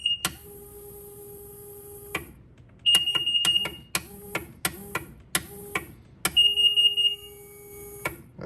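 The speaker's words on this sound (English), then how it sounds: "So if that starter solenoid is good, when we hit the button here, this should go to 0 and beep." Repeated electronic beeps from a multimeter on continuity mode testing a two-stroke jet ski starter solenoid: several long steady tones and a run of short chirps in irregular bursts, clear and close, with no talking.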